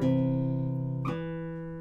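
On a classical guitar, one note rings and is cut off by muted strings, then a second higher note is plucked and rings softly, played slowly and close.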